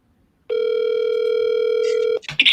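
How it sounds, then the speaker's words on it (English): Telephone line while placing a call, a steady loud dial-type tone holding for under two seconds before cutting off into a burst of line noise and clicks, close and with no talking. "see if we get Andrew on the line here"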